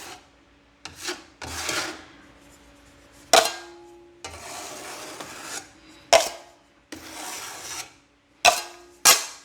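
A drywall knife wipes joint compound over damaged cornerbead in a repair, making a series of close, raspy scraping strokes in short bursts with brief pauses, and no talking.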